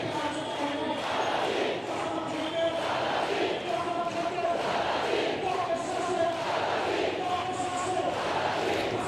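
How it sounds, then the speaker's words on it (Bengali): Large protest crowd at Shahbag square in Dhaka chanting Azadi slogans, a dense continuous roar of many voices with rhythmic surges, loud and sustained throughout. "আমরা শুনতে পাচ্ছি এই মুহূর্তে আজাদি স্লোগানে মুখর শাহবাগ চত্বর"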